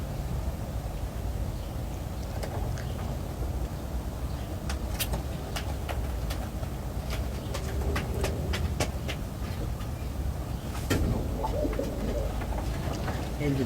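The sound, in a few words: pigeons cooing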